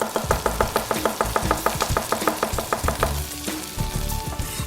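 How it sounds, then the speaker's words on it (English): A large kitchen knife chops through a shallot in a quick, steady run of close, sharp strikes on a board, which then loosen into scattered softer knocks. "What I do is take the larger knife, cut right the way through."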